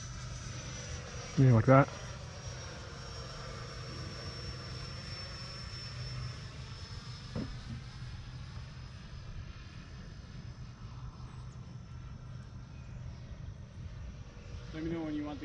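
An E-Flite F-16 RC jet makes a slow flyby with a roll, a steady distant whine that swells slightly and sustains under intermittent nearby talk, with a brief louder knock near the start.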